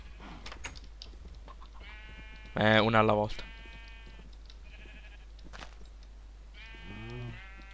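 Minecraft cows lowing in a survival world, one loud drawn-out bellow in the middle and a shorter one near the end, with someone talking quietly between the calls.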